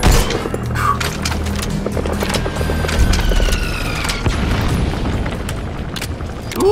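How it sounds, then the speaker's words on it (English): Mortar shells bursting in Metal Gear Solid 5: The Phantom Pain, a loud continuous rumble of booms with crackling debris and bright tonal game effects layered over it, dense and close. "Who the dumbass with the mortar?"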